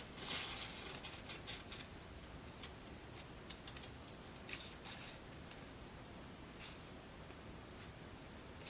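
Scissors snipping through paper pieces for a firefly forest book nook, a run of close, crisp cuts with short pauses between strokes, no voices.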